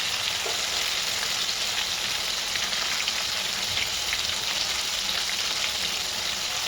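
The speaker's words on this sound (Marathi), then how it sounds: "छान अशा सोयाबीनच्या तेवढ्या तळल्या जातात" Soya chunks frying in hot oil on a medium-high flame, giving a dense, continuous crackling sizzle that stays close and even with no voices.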